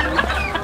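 Chickens cluck softly in a backyard coop in an Indonesian garden, a short steady burst of low hen chatter over a continuous background hum.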